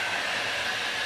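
Torch heating the hood latch bracket of a car, a steady loud roaring hiss with no breaks, close by and alone.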